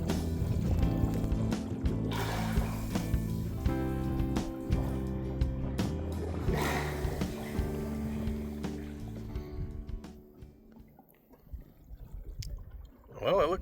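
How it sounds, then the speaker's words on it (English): Water rushes through off-grid homestead plumbing pipes fed from a tank, a steady gurgling, sloshing flow with bubbling surges that thins out and falters near the end before swelling again. "This is the sound of water rushing through the pipes from the tank."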